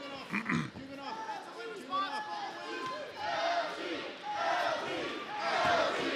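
A loud arena crowd at an MMA lightweight final chants rhythmically for fighter LT Nelson, with massed voices rising and swelling steadily for the whole stretch.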